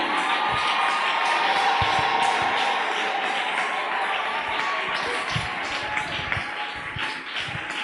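A church congregation cheers and acclaims during a service, a steady wash of crowd voices with scattered claps and shouts, loud and continuous throughout.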